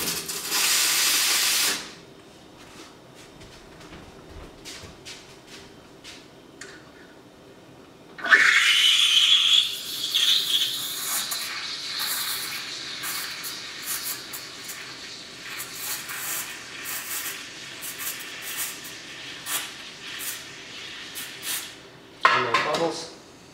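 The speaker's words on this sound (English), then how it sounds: "the cream is being frothed with espresso" Espresso machine steam wand frothing cream for a honey raf coffee, a loud steady hiss with rising squealing tones that runs for many seconds, preceded by a brief burst of steam and clinking cups.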